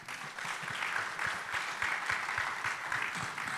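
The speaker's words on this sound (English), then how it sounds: "I would like all of you to give a round of applause." Sustained audience applause after a panel discussion at an audit and IFRS 18 conference, a full, even round of clapping from a seated crowd lasting several seconds without pause.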